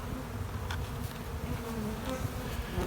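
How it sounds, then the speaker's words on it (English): An open beehive crowded with honey bees gives off a steady, fairly quiet buzzing hum up close, constant throughout with faint brief rises. "Fully occupied by bees."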